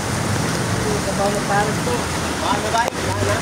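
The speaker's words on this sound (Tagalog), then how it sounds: "Ay, ang lakas ng ulan doon oh." Heavy rain pours in Taguig during flooding, a dense continuous hiss of downpour close by and loud, with a person talking over it throughout.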